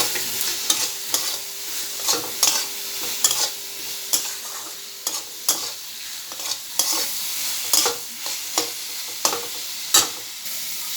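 Potatoes sizzling in hot oil in a pan while being stirred, with rhythmic scraping strokes recurring about every half second over a constant frying hiss, close and fairly loud.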